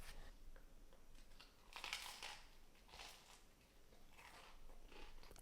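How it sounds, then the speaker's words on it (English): Several crisp, quiet crunching bites into a toasted whole grain English muffin topped with jam, close to the ear with soft chewing between the bites. "little Dave's whole grain English muffin with the Charleston Sunrise Jam. 1 bite."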